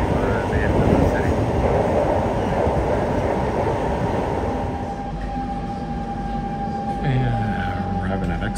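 A Singapore MRT subway train rumbles and hums steadily from inside the carriage on the way toward Expo station, with a continuous loud rolling noise and a tonal whine as it slows near the end.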